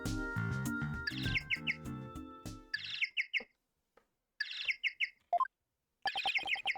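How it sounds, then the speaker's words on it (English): A penguin-like phone ringtone from the video game Ace Attorney: Dual Destinies, heard as repeated bursts of high squeaky chirps that come in several short spaced groups, first over game music, then alone. "That's my ringtone."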